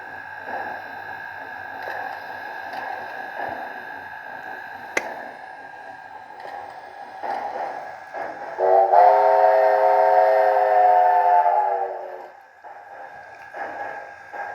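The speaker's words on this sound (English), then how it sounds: "The Chesapeake and Ohio whistle that they have programmed into the Decoder" An HO scale homemade 2-6-6-6 Allegheny model locomotive with a DCC sound decoder sounds a programmed Chesapeake and Ohio steam whistle: one sustained, chime-like blast of about three seconds over steady background chuffing and hum.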